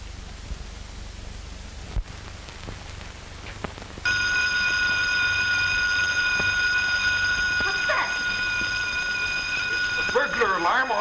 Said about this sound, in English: Burglar alarm on the garage.